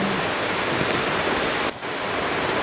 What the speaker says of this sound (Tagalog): Maglalabas sana ako kasi ang lakas-lakas ng ulan eh.